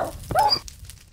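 A dog whimpers once in the video game Minecraft Beta 1.7.3, a short rising whine lasting about half a second, close and moderately loud over faint background.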